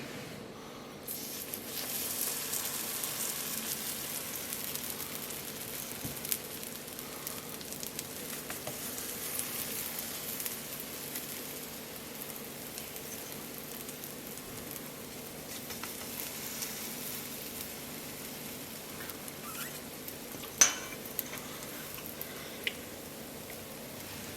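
Yeast potato pancake batter for Northern German Lippisch Pickert goes into a hot pan, giving a steady, close, even sizzle that holds for the whole stretch with a few small pops and no talking.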